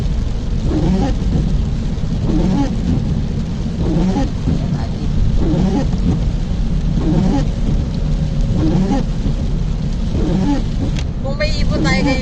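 Heavy rain pours steadily in Doha, Qatar, a dense continuous roar with low rumbles of thunder rolling through it. A voice speaks at moments over the downpour.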